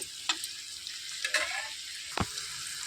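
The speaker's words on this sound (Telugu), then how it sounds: "ఉల్లిపాయలు అనేవి మంచి రంగు వచ్చే వరకు వేయించుకోవాలండి" Onions frying in a pan with ivy gourd, a soft steady sizzle with a few brief stirring scrapes, close and fairly quiet with no talk.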